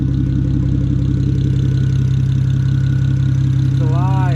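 A BMW 335xi engine with an open downpipe and a 6HP28 transmission runs at a steady idle, a loud, close, even drone throughout, with a faint rising whine near the end.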